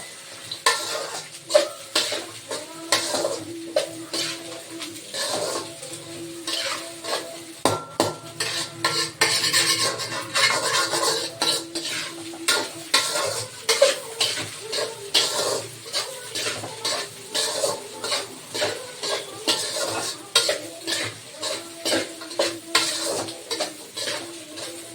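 Cabbage, carrot and beans being sautéed in a pan for macaroni: a spoon scrapes and clatters against the pan in a busy, continuous stirring rhythm, with light sizzling underneath and no talk.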